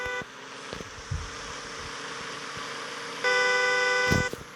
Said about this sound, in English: I can't tell if the Miata's honking at me or the guy behind him.